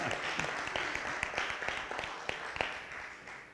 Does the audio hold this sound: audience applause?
yes